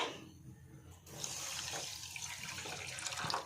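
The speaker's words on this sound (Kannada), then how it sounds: "ಸಕ್ಕರೆ ಪಾಡೊಂದುಲ್ಲೆ ನೀರು ಪಾಡೊಂದುಲ್ಲೆ" Water pours steadily into a pan of sugar to make syrup for kaju modak, a continuous close rushing splash that starts abruptly after a quiet second and runs to the end.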